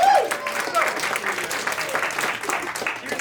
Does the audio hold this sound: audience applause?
yes